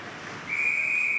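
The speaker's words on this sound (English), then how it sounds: "And the whistle blows." A referee's whistle sounds at a high school ice hockey game, one steady sustained blast cutting in over the arena's background noise.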